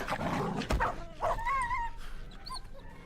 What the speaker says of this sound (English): A bunch of goddamn dogs out here.